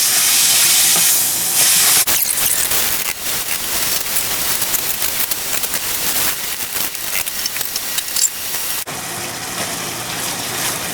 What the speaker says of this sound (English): stir fry that on high heat just until the beef is cooked through